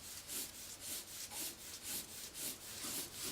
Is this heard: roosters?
no